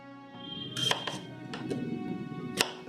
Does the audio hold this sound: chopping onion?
yes